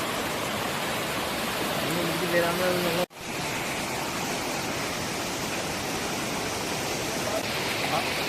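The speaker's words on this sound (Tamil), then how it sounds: "ஃபால்ஸ் பாருங்க, ஃபால்ஸை பாருங்க" Waterfall near Khopoli on a trek, a dense, steady roar of falling water that fills the scene, briefly cut by a short dropout before resuming.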